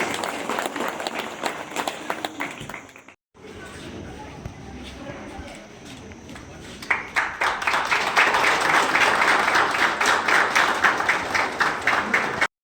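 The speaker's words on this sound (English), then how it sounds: "Please give a round of applause" A school event crowd claps rhythmically with some voices mixed in; the clapping briefly cuts out, then swells again louder and more steadily toward the end.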